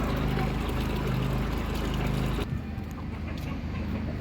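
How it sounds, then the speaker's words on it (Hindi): Cold water pours steadily into a clay pot set out for hens on a rooftop farm, a loud continuous splashing gush that eases into a softer, thinner trickle partway through. "इसके अंदर अभी हम ठंडा पानी डालेंगे, ताकि मुर्गियों के लिए बराबर सा पानी हो जाए।"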